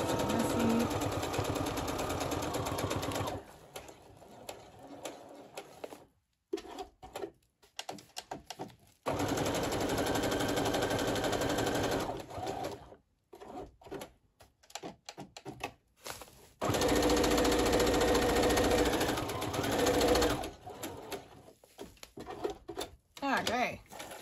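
A sewing machine stitches through a bubble-envelope journal cover in several loud mechanical bursts, each running for a few seconds, broken by quieter pauses and stop-start runs.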